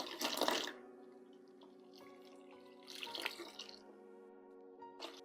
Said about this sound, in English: I'll now take the cold water and cleanse my skin